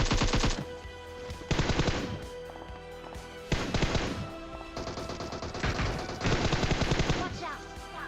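Gunfire in the video game PUBG: repeated loud bursts of automatic rifle fire in several sustained volleys with short gaps, near and dense, with faint speech underneath.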